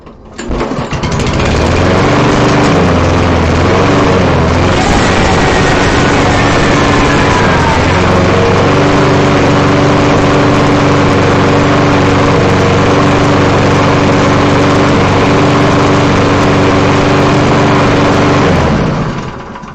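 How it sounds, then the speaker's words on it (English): A Toro lawn mower engine is pull-started, sputters to life and then roars loudly and steadily, running continuously before cutting off at the end. "So I'm going to pull start this mower."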